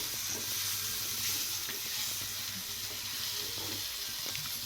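Bangda mackerel fish frying in hot oil, a steady soft hiss and sizzle with faint crackles, continuous and fairly quiet with no talking.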